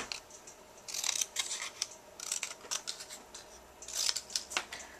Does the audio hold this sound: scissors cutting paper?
yes